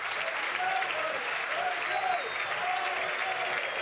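Burnley fans in a stadium applaud Chris Wood as he leaves the pitch at a Premier League match against Newcastle, a dense, steady roar of clapping from a large crowd with faint voices mixed in.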